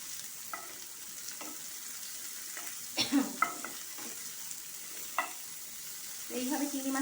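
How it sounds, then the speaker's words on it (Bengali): Shrimp frying lightly in oil in a pan give a soft, steady sizzle, with a few louder stirring scrapes and clinks now and then and a brighter burst of hiss near the end. "এইভাবে চিংড়ি মাছটা আমি ভাজতে থাকি।"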